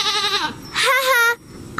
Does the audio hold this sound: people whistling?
no